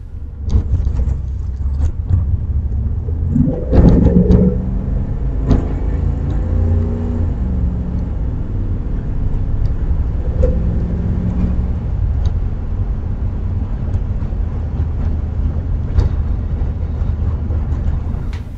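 A third-generation Chevrolet Camaro with a 305 TPI V8 drives along, a steady low engine rumble with a brief rise in revs early on, heard from inside the car.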